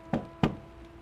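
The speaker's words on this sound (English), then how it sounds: "Then something knocked from inside the bathroom." Two firm knocks sound on a door from inside a bathroom, close and distinct, spaced about a third of a second apart in an otherwise quiet room.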